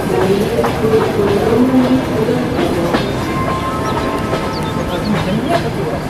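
A passenger train sits at a railway station platform, its wheels clattering and clicking steadily as a public-address announcement about boarding carries over the rumble.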